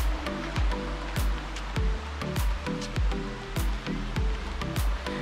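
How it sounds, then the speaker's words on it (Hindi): Steady broadband rush of the waterfall at Bushkill Falls runs throughout, loud and close, with repeated low thumping knocks and clatters over it. "झरने की आवाज़ भी आपको आ रही होगी, जो पानी बह रहा है।"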